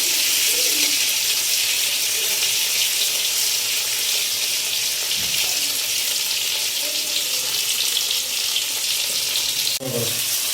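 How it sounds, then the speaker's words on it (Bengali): Black cumin and tomato frying in oil left over from frying fish in a kadai, a steady bright sizzle throughout with a few soft stirring clunks and a brief clatter near the end. "আমি দিয়ে দেবো কালো জিরে, আর দেব টমেটো। ভালো করে ভেজে নেব।"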